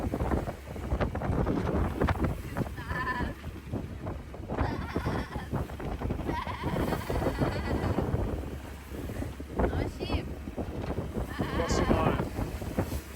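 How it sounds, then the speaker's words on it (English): Sheep aboard a sailing boat bleat in repeated calls over a loud, rumbling motor and gusting wind noise on a rough, noisy sea passage. "noisy for the sheep on board, not just the motor"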